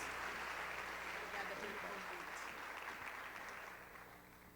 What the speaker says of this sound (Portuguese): Vamos aplaudir a Deus pela palavra.